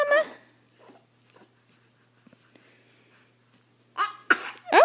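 A dog sneezes in a sharp, close burst, then a short snort follows; a voice is heard briefly before and after, with near silence between.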